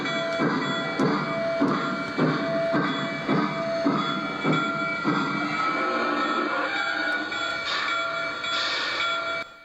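An O gauge model steam train runs onto a turntable on a layout, giving a steady rhythmic clicking of wheels with a sustained whine and a faint bell-like ring, close and even, with no voices.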